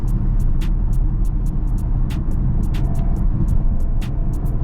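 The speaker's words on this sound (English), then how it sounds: "That might just be the noise of the engine." Steady low engine rumble from a big-bodied luxury car heard from inside the cabin while driving, a continuous drone with faint ticks above it and no talking.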